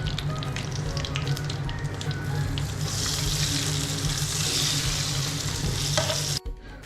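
Hot oil tempering with curry leaves poured over cooked tapioca for Kerala-style kappa biryani, giving a steady close sizzle and hiss with stirring clatter, ending with a sharp cut-off.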